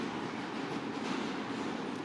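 A subway train rumbles steadily along the tracks, a dense, continuous roar heard from inside the car with no breaks.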